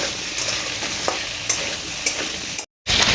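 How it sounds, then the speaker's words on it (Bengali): Potatoes frying lightly in a little oil, with a continuous close sizzle and occasional soft stirring scrapes throughout, broken by a short moment of silence near the end. "অল্প তেলে আমি আলুটাকে ভেজে নেব হালকা করে, লাল লাল করে"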